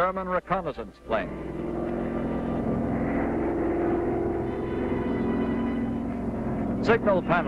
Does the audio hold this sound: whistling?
no